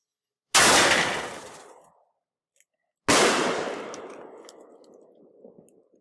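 An artillery firework shell launched and bursting in two loud sharp booms about two and a half seconds apart, each trailing off in a crackling rumble, outdoors with silence between.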